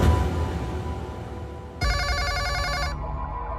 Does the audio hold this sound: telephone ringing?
yes